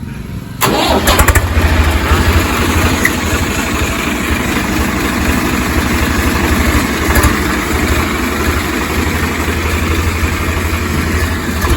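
A Swaraj 855 tractor engine starts with a brief crank and catches, then runs loud and close at a steady idle for the rest of the clip with a constant deep rumble.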